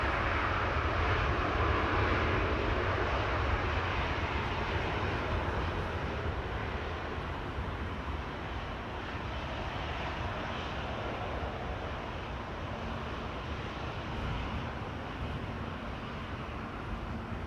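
KLM's Orange Pride jet at Amsterdam Schiphol produces a continuous, fairly loud engine roar that stays broad and even throughout, easing only slightly midway, with no voices present.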